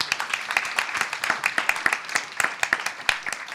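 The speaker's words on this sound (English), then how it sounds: "So can I just ask for a round of applause?" A round of applause at a Ukraine recovery business gathering: a moderate number of crisp, separate hand claps at a brisk irregular pace, fairly close and of modest volume, without building into a dense roar.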